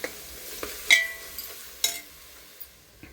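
Ginger-garlic paste fries in a pan for paneer biryani, with a soft sizzle underneath and a few sharp, ringing clinks of a spoon striking the pan, close up and with no voices.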